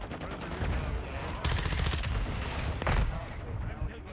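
Rapid automatic gunfire from a submachine gun in Call of Duty: Modern Warfare II multiplayer, bursts repeating loudly and closely over several seconds with a dense clatter of shots throughout.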